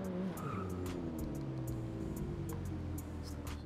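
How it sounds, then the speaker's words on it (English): A video game car launches hard from a dead stop on a highway, tires squealing and engine roaring as it accelerates, the wheelspin screech fading into a steady high-revving drone. "Pretty nice launch, still spins a little through second gear."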